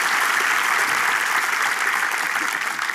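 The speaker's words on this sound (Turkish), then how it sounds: "Alpay Bey alkışlarla yerine gönder" A studio audience on a Turkish TV entertainment show claps loudly and continuously, a dense, even roar of applause that fills the whole stretch without pause.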